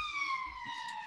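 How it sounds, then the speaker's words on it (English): A police car siren passing by outside, heard faintly at a distance as a steady, gliding wail that slowly falls in pitch. "we've got a police car going by up there"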